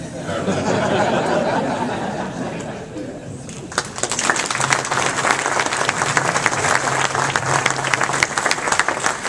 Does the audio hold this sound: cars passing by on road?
no